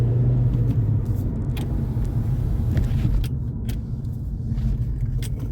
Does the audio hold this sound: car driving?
yes